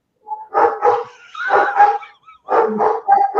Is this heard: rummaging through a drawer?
no